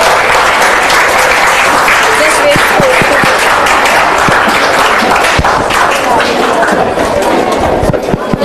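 A crowd at a school presentation and spelling bee competition gives a long, loud round of applause, dense steady clapping with occasional thumps and sharper claps, voices faintly mixed in beneath.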